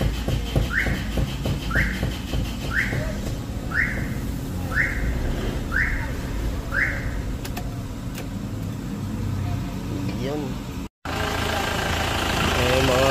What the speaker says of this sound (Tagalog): ganda ng tunog ng makina ni boss, ano?